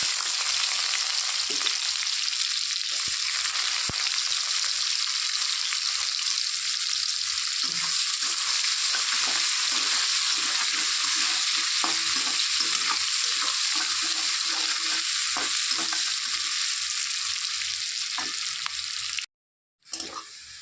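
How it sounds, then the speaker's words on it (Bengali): Chopped onions with cumin seeds fry in a pan for banana flower curry, a continuous loud sizzle broken by scraping stirring strokes, then a short drop to silence near the end. "তো পেঁয়াজটা ভাজা হয়ে গেছে"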